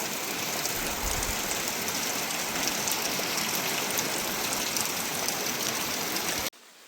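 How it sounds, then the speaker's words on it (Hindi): Steady, dense rainfall hisses continuously for several seconds, a broad wash of drops without pause before cutting off abruptly at the end. "बारिश अभी भी बंद होने का नाम नहीं ले रही है भाई"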